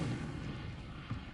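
A quiet Incendio fire spell in Hogwarts Legacy: a soft rumbling burst opens the clip, a low whooshing roar continues beneath it, and a second muffled flare follows about a second later.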